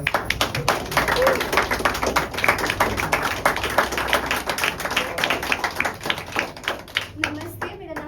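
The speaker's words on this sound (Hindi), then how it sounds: "आई के लिए जोरदार तालियां एक बार।" A small gathering claps for a mother, a brisk patter of hand claps from several people, fairly close and steady, with voices talking and calling out over it and the clapping thinning toward the end.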